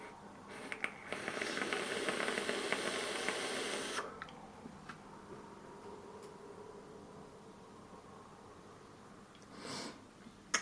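A Jaybo Indestructible RDA with a 0.35-ohm build on a mechanical mod hisses steadily and close-up for about four seconds while vapor is drawn, then goes quiet with faint puffs.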